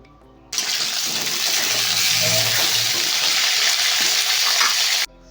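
Potatoes, brinjal and other chopped vegetables hit hot oil with a loud, sudden burst of sizzling that holds as a dense hiss, under faint stirring scrapes. The sizzle then cuts off abruptly.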